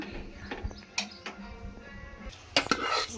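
Scraping and clinking of a utensil against a pot as cooked bisi bele bath is transferred into another pot, with a couple of louder metallic knocks near the end.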